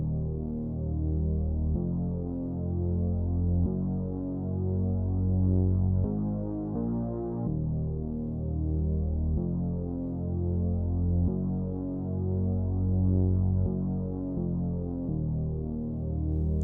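Slow ambient synth beat with Respace reverb and the bouncy rhythm removed, sustained low chords with a steady hum-like throb, continuous and even in loudness throughout, with no voices.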